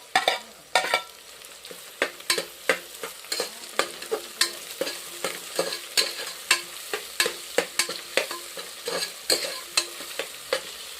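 Potatoes cut into long strips are stirred and fried in a pan for village-style peas pulao, a steady run of sharp spoon scrapes repeating over a continuous close sizzle, with no talking.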